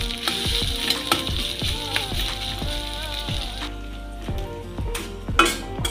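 Chopped chillies fry in a pan as they are stirred: a dense sizzle with repeated spatula knocks and scrapes in a steady beat, close and loud, with faint background music and no clear talk.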